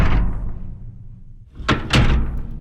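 Paper recorded with an ultrasonic microphone and pitched down, turning into a deep booming rumble that fades, then two heavy thudding impacts close together, loud and alone.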